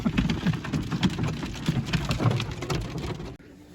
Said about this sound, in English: this hail just started coming down